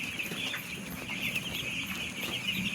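Five-day-old chicks crowd around water at night in a poultry shed, their shrill peeping forming a continuous, dense chorus close to the microphone.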